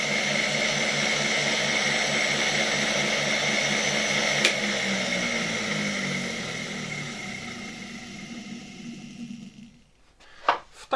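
A 1958 RFSG B-1 three-brush floor polisher motor runs with a steady, loud electric whine and hum that gradually dips in pitch, then cuts off near the end, leaving brief clunks.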